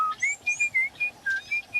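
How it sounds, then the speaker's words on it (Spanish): A rabbit in a told story whistles a lively tune, with about eight short bright whistled notes in quick succession over a quiet background. "siguió su camino, siempre silbando"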